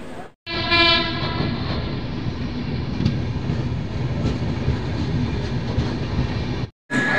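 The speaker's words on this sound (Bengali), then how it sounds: "সিগন্যাল হয়ে গেছে, ট্রেন ছাড়ছে।" A train horn blares loudly at the start, then the close, heavy rumble and rattle of the Chambal Express departing a station carries on steadily.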